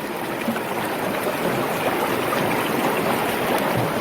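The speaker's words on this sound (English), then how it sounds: "Grab some more water in it, swirl it around, dump it out." Water sloshes and pours steadily from a gold pan holding black sand and clay as it is swirled and dumped, a continuous close rushing splash with no talk.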